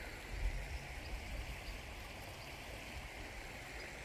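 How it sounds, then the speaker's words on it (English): River water flowing beside a walkway along the Nabão River at Agroal, a soft continuous rushing wash, faint and even throughout with no voices. "Just listening the birds and the water."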